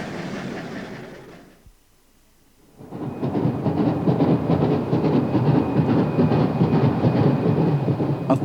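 Steam locomotive 3808 of Australia's 38 class runs on rails, a loud, continuous rushing roar with a rhythmic rattling texture that drops briefly to near silence before surging back strongly.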